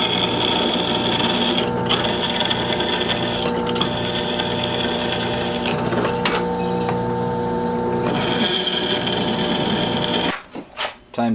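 A drill bores holes in a motorcycle part for 6mm bolts on a Honda Sabre cafe project, giving a loud, steady mechanical whirr with brief changes in pitch, then a few short knocks and clatters at the end.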